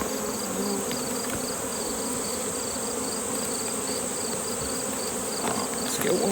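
Honeybees buzz at an opened, disturbed hive during inspection and treatment, forming a steady, dense drone that holds close and constant throughout with a few individual bees passing nearer.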